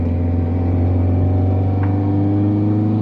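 A Lancia A112 Abarth engine hums in a steady, loud, close idle-to-light rev, with a deep, even drone throughout and a brief rise in tone.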